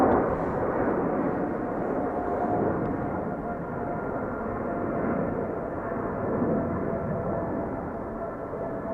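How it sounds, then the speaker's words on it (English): A KLM Boeing 777-300ER taking off from Schiphol bound for Cape Town, heard as a steady, moderately distant jet roar with a faint whining tone running through it, constant and unbroken. "Triple 7-300ER going to Cape Town, South Africa, KLM flight 597."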